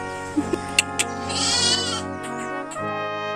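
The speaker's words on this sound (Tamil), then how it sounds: "இன்னைக்கு தான் நான் ஃபர்ஸ்ட் டைம் இந்த ஆட்டுக்குட்டியை தூக்குறேன்" A baby goat being held lets out a harmonic, wavering bleat, close and clear, with a few soft clicks and handling noises at the start.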